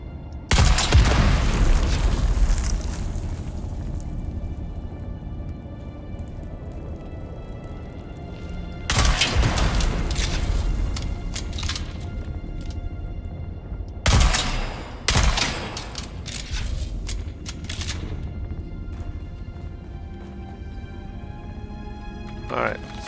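Gunfire in the sci-fi survival game Dune Awakening: heavy bursts of shots and booming blasts come in three loud clusters separated by quieter stretches of low rumble, with a voice talking over parts of it.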